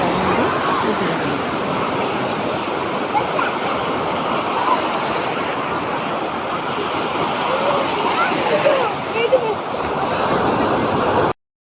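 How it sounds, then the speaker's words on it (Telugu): Sea waves wash onto bare feet at a beach, heard as a loud, continuous surf roar with wind buffeting the microphone and faint voices in the background, cutting off abruptly at the end. "అలలు వచ్చి అలా పాదాలను తాకి వెళ్తూ ఉంటుంటే ఆహా ఎంత బాగుందో"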